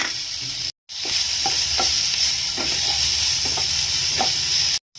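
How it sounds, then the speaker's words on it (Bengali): Dry spices, dried chillies and black peppercorns fry in a pan with a steady close sizzle, broken by repeated scraping stirs and two brief silent gaps, with no talking. "এবার এই শুকনো মশলা, শুকনো লঙ্কা, গোলমরিচ এগুলো দিয়ে ভেজে নেব।"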